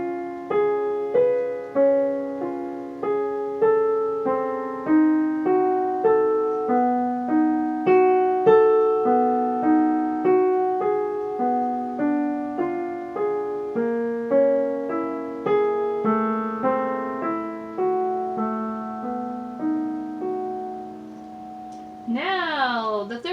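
Solo piano plays a line from the Adagio sostenuto of Rachmaninov's Piano Concerto No. 2, a steady stream of clear, sustained notes moving through a slow melodic passage, close and unaccompanied, with a brief bright flourish near the end.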